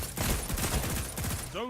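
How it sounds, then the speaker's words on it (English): A Telesto fusion rifle in Destiny 2 firing a rapid burst of bolts, a dense crackle of fast shots followed by a brief rising electronic whine. "We're going to try to shoot one of our teammates with Telesto bolts to see."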